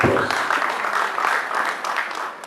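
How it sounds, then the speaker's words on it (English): An audience gives a guest a welcoming round of applause, steady and fairly loud throughout, at a formal gathering with the clapping continuing unbroken across the short stretch. "I'd like that we please welcome him with a resounding applause."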